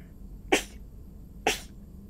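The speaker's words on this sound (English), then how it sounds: "Oh god, I got to sneeze" Two sharp sneezes from one person, close and loud, about a second apart, each a quick burst with brief quiet in between.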